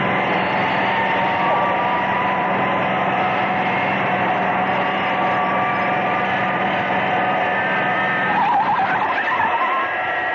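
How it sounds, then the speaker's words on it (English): Tires screech as a vehicle brakes hard in an audio drama, a loud sustained squealing roar that holds steady for about ten seconds with engine and rushing noise beneath. "I'm applying brakes down here."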